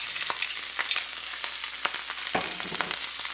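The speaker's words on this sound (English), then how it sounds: "we're just going to stir everything all together" Chicken garlic butter fried rice with frozen peas being stirred in a hot pan, steady sizzling under repeated scraping clicks of a utensil, close and fairly loud with no talking.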